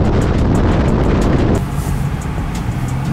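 A tuned Infiniti Q60 roars through full-throttle pulls on snow and ice, a loud, sustained engine drone with rapid rhythmic pulses that drops to a lower, steadier hum partway through.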